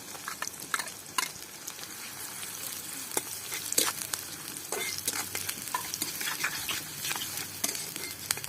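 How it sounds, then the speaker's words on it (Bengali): Chopped onions and slit green chillies fry steadily in hot oil over a wood-fired stove, a continuous crackling sizzle broken by frequent scraping stirs, close and fairly loud with no talking. "সুন্দরভাবে পেঁয়াজগুলোকে লাল লাল করে ভেজে নেব।"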